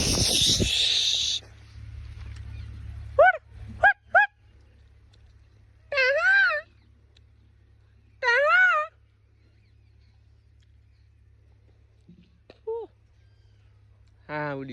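A peacock rises from a farm field with a loud rustling burst, then gives a series of loud, wailing honk-like calls spaced several seconds apart against a quiet outdoor background, with a brief voice near the end.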